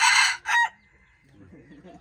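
A rooster lets out a loud, close crow in two bursts, followed by quieter low clucking from chickens.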